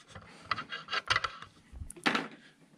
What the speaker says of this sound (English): So basically we've got to file the edge down to that.